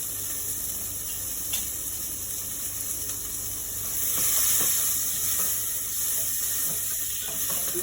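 Crushed garlic sizzles with onions in a pan over low heat while cooking lamb shanks, a steady hiss under faint stirring clicks, close and alone with no talk.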